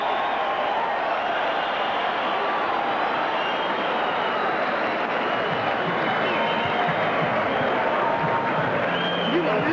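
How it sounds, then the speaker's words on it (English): Boxing arena crowd at a heavyweight title fight roaring and applauding between rounds, a continuous dense wash of cheering and clapping that stays loud throughout, with a commentator's voice faintly mixed in. "Listen to the crowd."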